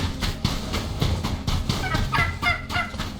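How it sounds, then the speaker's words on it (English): A turkey gobbles in the Soulmask video game, a loud, close, repeated rapid warbling burst lasting a few seconds with no talk over it. "There's a turkey."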